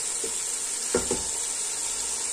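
Chicken biryani masala with tomatoes sizzling in a pan, a steady hiss of frying broken by a few quick scrapes of a spoon stirring, close and without speech.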